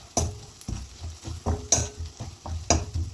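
Chili flakes and small shallots sautéing in a pan for chicken kondattam, with repeated scraping stirs cutting through a steady close sizzle, no voices.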